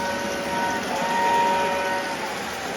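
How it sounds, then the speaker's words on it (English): Steady chugging of a model steam locomotive with a sustained electronic whistle tone running through it, continuous and fairly loud. "So we have the mighty sounds of steam with the electronic whistle."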